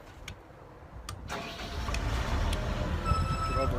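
An HA130RTJ lift machine's engine cranks and catches after a few faint clicks, then settles into a loud, steady running rumble that builds slightly and holds.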